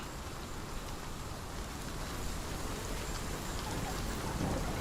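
Heavy rain pours steadily in Hellblade: Senua's Sacrifice, a dense broadband wash with a low rumble swelling slightly toward the end, continuous and without speech.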